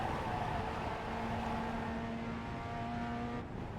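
A Pontiac Solstice engine in the iRacing simulator drones steadily at high revs, a sustained tonal whine that holds for a few seconds then drops off abruptly, heard alone without talk.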